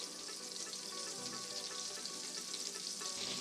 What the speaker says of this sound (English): I'm just gonna stir that up a little bit better, make sure the butter gets completely in